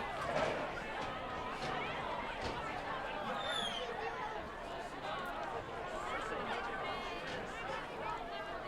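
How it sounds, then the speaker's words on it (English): Mountain Crest High School student section cheering at a night high school football game against Tooele, distant steady crowd roar and chatter throughout, with faint whistles and shouts. "You can hear the Mountain Crest students. They've been pretty vocal all night"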